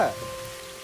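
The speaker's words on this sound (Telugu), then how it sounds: "తెగ గురిసేస్తుంది వర్షం." Heavy rain pours down outdoors, a steady broadband hiss that begins with a short burst and then holds at an even level for under a second.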